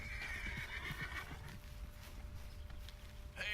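A horse in Red Dead Redemption 2 gives a loud, shrill whinny that wavers and fades, over steady clip-clop hooves and low rumbling game ambience, with a short second whinny at the very end.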